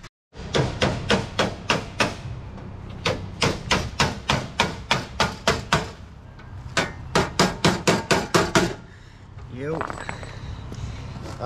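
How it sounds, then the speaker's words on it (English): Steel hammer and dolly beating out dented car bodywork, a rapid series of loud, sharp metallic blows in bursts, close by with short pauses between runs. "I got the hammer and dollies out here."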